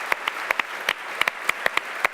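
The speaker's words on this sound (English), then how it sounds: "Let's give a round of applause" A small room audience claps at a yachting event opening in Cowes, with sparse, distinct handclaps in an irregular rhythm that carry close and fairly loud without any talk.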